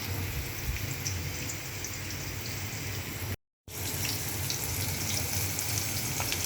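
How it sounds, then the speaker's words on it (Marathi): Flour-coated chicken pieces deep frying in oil in a kadhai at home give a steady, close sizzle that fills the clip. The sizzle breaks off briefly near the middle, then resumes. "एक साईड तळून निघाली दुसरी साईडला आपण उलटी करायची."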